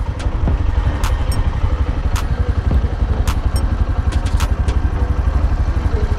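A motorcycle engine idles at a toll booth on the Purvanchal Expressway in Uttar Pradesh, making a steady, loud, close low throb with a few faint clicks and clatters over it.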